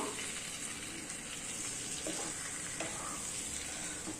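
Fried eggplant curry in a pan, with a little water just added, sizzles steadily and softly. Gentle stirring runs underneath and the sound stays quiet and even throughout, with no voices.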